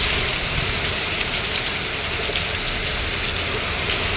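Heavy rain driven by wind pours down steadily in a dense, unbroken hiss around a home, soaking a sewing machine, scissors and cloth. It stays loud and constant throughout, with no pauses or voices.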